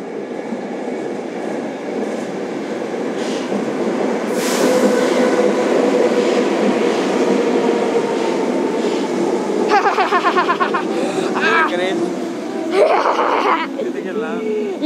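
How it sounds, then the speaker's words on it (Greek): An old Athens metro train rolls into Thiseio station on the opposite track, rumbling louder as it nears, then wheels squeal and screech near the end; voices talk over the train noise. "Παλιό του μετρό το απέναντι."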